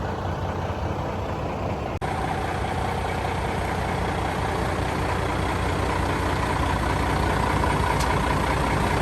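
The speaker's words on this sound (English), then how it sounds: "This is the truck that he has to turn off with the stick up under the" An old truck idles steadily, the kind that has to be shut off with a stick under the hood. It gives a loud, continuous rumbling drone with no break, and a single faint click comes partway through.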